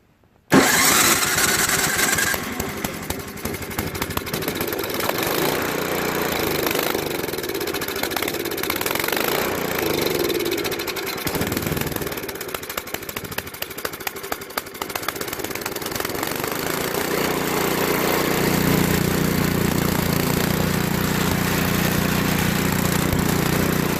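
A Craftsman snowblower with a Tecumseh 5.5 HP engine fires up on electric start and runs on choke, starting with a sharp catch and then a loud, continuous, uneven engine roar that shifts in pitch for over twenty seconds.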